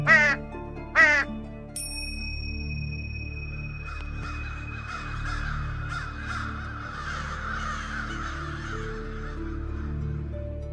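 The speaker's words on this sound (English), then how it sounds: "This is the American crow." An American crow caws twice in quick succession, loud and close, followed by a long stretch of quieter layered tones and background hum.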